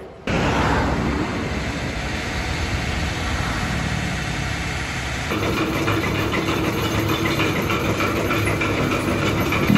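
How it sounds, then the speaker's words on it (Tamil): A flour mill grinding dried chillies into chilli powder drones steadily and loudly throughout, a constant motor roar that shifts in tone partway through, with no talking. "ஸோ மிளகாத்தூள் அரைக்கிற இடத்துக்கு வந்தாச்சு. அரைச்சிட்டு பார்ப்போம்."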